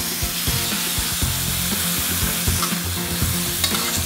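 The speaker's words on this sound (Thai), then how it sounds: "ผัดให้เส้นคลายตัว" Korat-style rice noodles tossed in a pan with a little oil and water, a steady sizzle broken by repeated scraping strokes of a spatula against the metal, loud and close with no talking.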